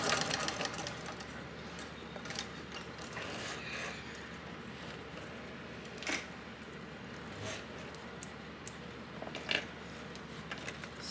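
A sewing machine stitches a crossbody bag, then back stitches, its quiet, steady mechanical whirr broken by a few faint clicks and knocks.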